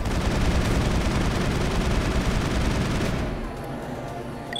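Heavy gunfire barrage from the video game Mass Effect, a dense, continuous roar of overlapping shots for about three seconds before it drops away to a quieter, steady background rumble.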